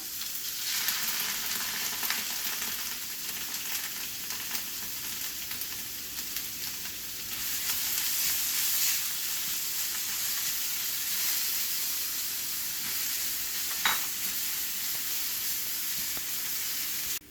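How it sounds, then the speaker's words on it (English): Steady sizzling of garlic and onions frying in a hot pan over medium heat, a constant bright hiss with an occasional sharper crackle, no one speaking. "while the garlic, the onions are frying up"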